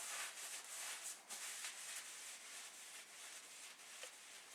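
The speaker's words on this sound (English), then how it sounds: "put a little bit of acetone on a rag and go ahead and clean the taper off" Faint, continuous rubbing as an acetone-dampened rag is wiped back and forth over a drill press chuck's metal taper, quiet and close, with no talking.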